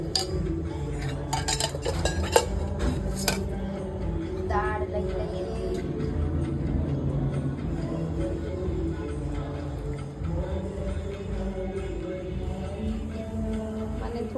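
A metal spoon clinks against a dish as ghee is added to dal bhat, with a quick cluster of bright clinks early on, then softer scraping and stirring.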